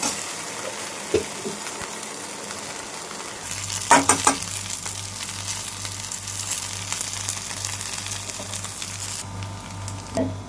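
Okra frying in a pan, a steady crackling sizzle that swells after a few seconds with a cluster of utensil knocks and scrapes against the pan, then continues evenly up close; no voices.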